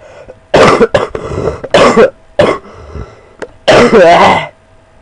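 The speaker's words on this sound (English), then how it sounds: "I'm still sometimes coughing" A man coughs and clears his throat in a run of harsh, close, loud bursts, several spaced apart over a few seconds with short quiet gaps between.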